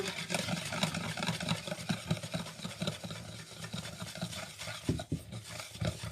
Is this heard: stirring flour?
yes